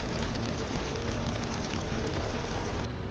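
Heavy monsoon rain falls on Mumbai, a dense, constant hiss of downpour at even loudness throughout, with no one speaking.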